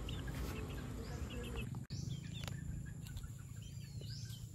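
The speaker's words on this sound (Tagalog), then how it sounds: "Ayan ating mga sisiw, puro maliliit pa sila dahil 43 days pa lang." Small 43-day-old White Gold straight-breed chicks peep and cheep in high, scattered calls over a low rumbling background, faint and fairly close, with a voice talking nearby.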